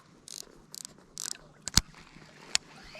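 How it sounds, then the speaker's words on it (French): A fishing reel's drag is adjusted while casting a small lure in clear, warm water: three short bursts of rapid ratchet clicking, then a couple of sharper isolated clicks, close and quiet. "Je vais régler aussi le moulinet."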